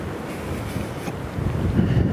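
Steady wind gusts roar and buffet the microphone across a bare, open stretch of land, a continuous low rumbling rush that swells slightly toward the end, with no voices.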